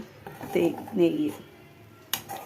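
Homemade ghee stirred in a pot with a utensil, soft scraping clinks and a sharper metallic knock near the end, faint and intermittent against quiet background.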